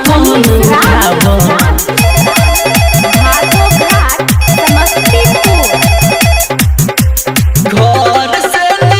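Electronic telephone ringtone melody woven into a Bhojpuri Bol Bam devotional song, repeating loudly over a steady beat and synth backing with no voice in this stretch.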